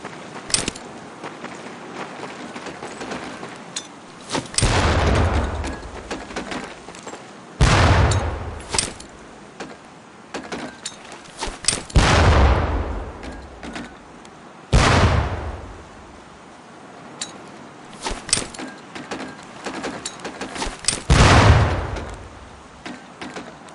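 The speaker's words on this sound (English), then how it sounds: "Pull the pin and let them fly." Training grenades in the boot-camp range of Medal of Honor: Pacific Assault burst one after another, several loud booming blasts spaced a few seconds apart, each trailing off into a rumbling decay.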